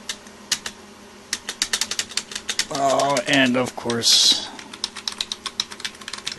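Rapid clicking keystrokes on a computer keyboard at a desk, close and crisp in irregular bursts, with a person speaking briefly partway through.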